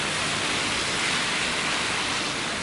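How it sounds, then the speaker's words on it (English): Heavy sleet and downpouring rain falling outside, a steady, dense hiss of precipitation that stays loud and even throughout with no pauses. "And it is literally sleeting, downpouring"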